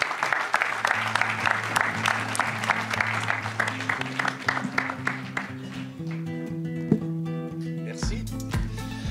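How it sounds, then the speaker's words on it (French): An audience at a volunteering conference applauds a guest coming on stage, a dense wash of clapping that gradually thins and fades while steady background music with sustained tones plays underneath. "Vous pouvez l'applaudir"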